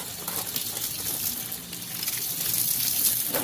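Water splashed over hot forged steel from a sword-making project, a steady rushing gush mixed with hissing sizzle that holds throughout at close range and fairly loud.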